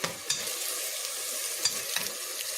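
Onion sautés in a pan for stuffed eggplant, a soft steady sizzle with a few sharp stirring scrapes of the utensil against the pan, close and alone.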